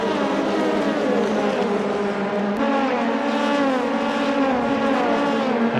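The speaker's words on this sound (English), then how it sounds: "Now heavy braking into the roller coaster corner." Race cars in a racing video game at the Autopolis circuit in Japan, with steady, loud engine drone that shifts in pitch as they brake hard into a corner, continuous throughout.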